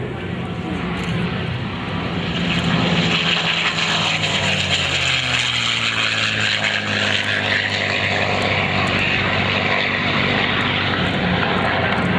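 A B-17 Flying Fortress piston-engine propeller bomber passes at an airshow, its loud droning engines swelling and shifting in pitch as it flies by, sustained and steady throughout.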